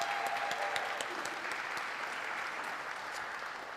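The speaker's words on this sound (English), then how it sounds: "Let's give our talented moderator and musician, Alicia Pinder, a round of applause." Applause at a university donors and scholars reception: a fairly faint, sustained patter of clapping from a gathered crowd, with a brief voice cutting in near the start.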